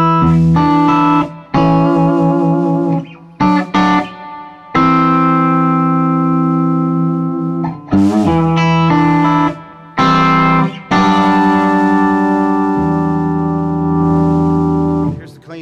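A loud, sustained electric guitar played through a Tone King Sky King amplifier with reverb, chords ringing out and washing into a lingering echoey tail between strums.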